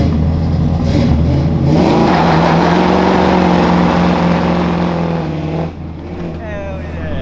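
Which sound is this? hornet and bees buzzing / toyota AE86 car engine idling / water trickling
toyota AE86 car engine idling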